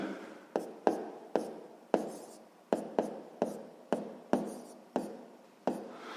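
Chalk or pen writing out a sixth-grade math exercise, heard as a series of sharp, close taps and short scratching strokes in an irregular rhythm, with no talking.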